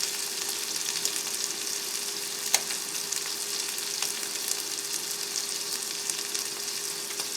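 Shrimp fried rice sizzles in a pan at a tent cooking spot, a steady close frying hiss with scattered small pops and crackles, with no talking.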